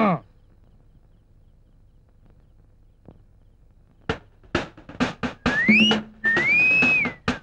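A person whistles a short tune in a comedy scene, a few clear rising and falling notes in quick bursts after a long quiet stretch, close and fairly loud.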